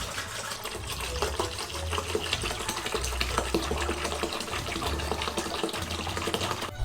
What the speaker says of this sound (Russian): Вливаем соевый соус.